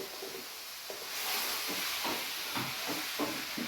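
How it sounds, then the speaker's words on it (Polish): A sudden hissing flare-up of fire in a frying pan while cooking soup, a broad steady sizzle swelling louder after the first second and carrying on with faint clatter underneath. "Kurde, aż mi się ogień na patelni zrobił."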